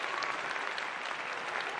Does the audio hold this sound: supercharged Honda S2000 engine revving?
no